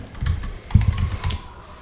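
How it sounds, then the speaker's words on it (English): Keys on a computer keyboard clatter in a quick irregular burst of soft taps during a programming session, close and moderately quiet with no talk. "Using multiple keyboards and multiple screens is always been a challenge"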